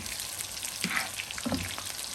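Chicken pieces fry in hot oil for chilli chicken with a close, continuous crackling sizzle, marked by a few sharper pops. There is no speech.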